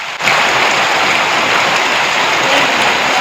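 Heavy downpour pours over a village near Botad, the first big rain after a dry spell of a month and a half, a dense, steady roar of rain that holds loud and unbroken throughout with no voices.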